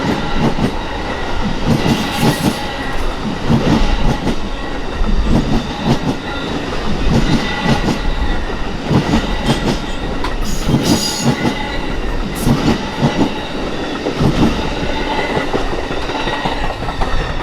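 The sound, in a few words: Amtrak number 6 California Zephyr train passing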